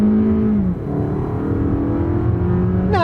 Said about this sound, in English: On your mark, get set, go. It spun the wheels.